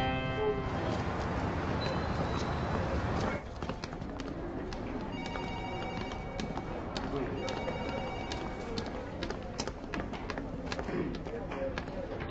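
A telephone rings on and on unanswered, its bright repeating trill running through the background while other sounds and movement continue around it.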